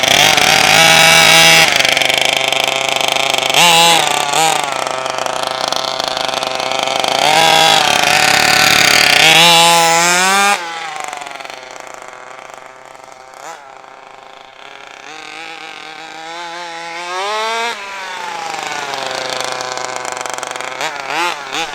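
A rebuilt HPI Baja 5T gas RC car engine revs loud and buzzy nearby for about ten seconds, then drops to a quieter, wavering idle with occasional rising revs.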